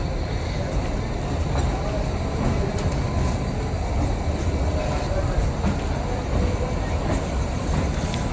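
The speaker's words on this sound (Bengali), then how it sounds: "এই ট্রেনটা এক্ষুনি ছেড়ে চলে যাচ্ছে।" Kalka–Shimla toy train pulls out of the station at Kalka on its first morning run, a continuous loud rumble and rattle of rolling wagons, with a busy platform and voices mixed into the din.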